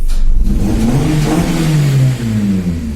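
A Suzuki Wagon R+ engine, swapped to an M16A with VVT, runs up close, a steady low drone whose pitch rises and falls as it revs, with no voices over it.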